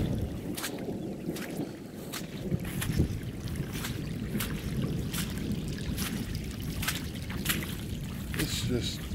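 Rainwater runs out of a hole in a compost pile in a steady, low gush, with wind rumbling over the microphone and occasional sharp knocks and splashes close by.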